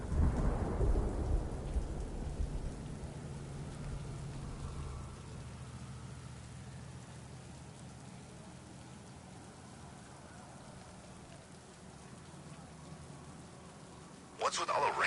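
Heavy rain pours steadily in Batman Arkham Knight, with a deep rumble of thunder rolling at the start, then a sustained, wide hiss of rain on surfaces and a sharp crackle returning near the end.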